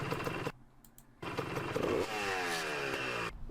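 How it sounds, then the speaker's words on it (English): A Honda CR 250 two-stroke motorcycle fires up on a first start, its crisp, raspy engine revving loud and close in bursts separated by a brief quiet gap. "the bike was blowing 2-stroke smoke instead of fuel out of the silencer and actually sounded pretty crispy"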